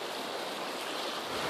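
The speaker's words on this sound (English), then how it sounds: "The Jemez River behind me." The Jemez River in New Mexico flows behind a deck overlooking big rocks, giving a steady broadband rush of moving water with no talk, level and continuous throughout.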